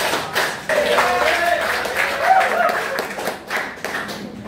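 A classroom of students claps together on a teacher's cue, making sharp, distinct hand claps in quick groups mixed with children's voices, close and fairly loud.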